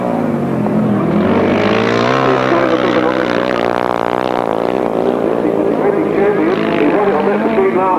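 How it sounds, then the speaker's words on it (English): A 600cc single-cylinder grasstrack racing motorcycle at a 1996 grasstrack meeting roars loudly, its engine note rising and falling in pitch as it passes, with commentary running over it. "that's only a 600cc single cylinder, got an engine in there"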